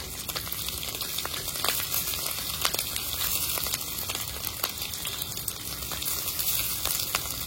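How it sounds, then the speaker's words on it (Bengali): A steady, loud sizzle of chopped onions frying in hot oil, with crackling pops throughout and no voices. "এখন আমি দিয়ে দেবো কেটে রাখা পেঁয়াজগুলি"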